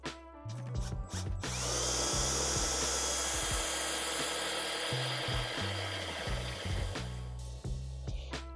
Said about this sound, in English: evidently I have the world's dullest 1/2-inch drill bit